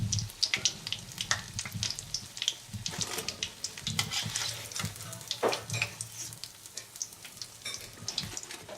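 Egg rolls sizzling in hot oil, a continuous crackling and popping with irregular bursts and scraping clatter, close by with no talk.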